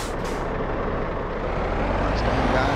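A truck in Euro Truck Simulator 2 rolls along with a loud, steady broadband engine and road roar and a short hiss near the start, while someone talks over it.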